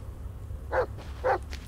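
In the horror video game Blair Witch, a dog gives two short, sharp barks about half a second apart over a low, steady background rumble.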